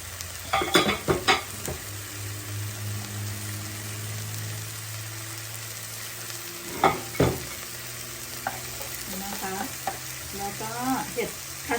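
Mushrooms fry in a pan with a steady, close sizzle, punctuated by bursts of spatula scraping and clatter at the start and again later, with no talk.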